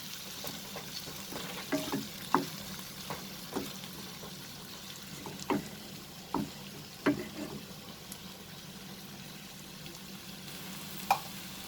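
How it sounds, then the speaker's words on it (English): Green chilies sautéed with onion in a pan for chicken roast, a faint, steady low sizzle broken by occasional light taps and scrapes of a spoon stirring, no voices. "You can also add green chilies if you want. Saute it along with the onion. Just mix it."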